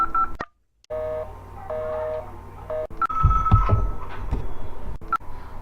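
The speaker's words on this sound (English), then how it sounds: "I've been dialing Murray Hill 40098 now for the last 3/4 of an hour" A telephone being dialed, with rotary clicks and tones interrupted by brief silence, then a quick series of mechanical dialing sounds up close, no voices.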